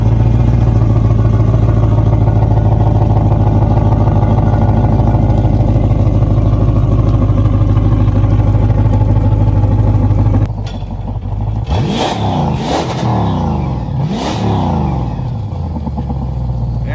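A Monsoon 383 engine in a 2008 Malibu VLX boat runs with a steady, loud rumble, then cuts off and is followed by a few sharp mechanical clatters and short revving bursts.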